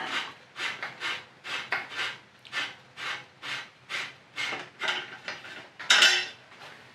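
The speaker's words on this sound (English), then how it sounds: "Now let's remove our rear rack screw," A rear rack bolt is worked loose from a trike with a tool, giving a run of about a dozen rhythmic ratcheting or scraping strokes, close and fairly loud, ending in a brighter metallic clink near the finish.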